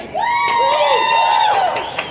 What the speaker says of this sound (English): I need a bigger applause than that